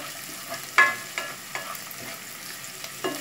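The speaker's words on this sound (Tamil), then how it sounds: "இப்போ வந்து வெங்காயம் வதங்கி அந்த ப்ரௌன் வந்து வர ஸ்டார்ட் ஆகிடுச்சு பாருங்கள்." Onions for mor kuzhambu sauté over medium flame, a faint low sizzle with intermittent spatula scrapes and taps against the pan.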